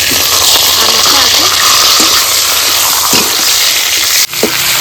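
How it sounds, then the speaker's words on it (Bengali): Hot oil sizzling steadily as dry red chillies and whole cumin seeds go into the pan, a loud continuous hiss with a few faint clinks, then a brief sharp knock near the end. "তেল দিয়ে দিচ্ছি ফোড়ন দেব শুকনো লঙ্কা গোটা জিরে"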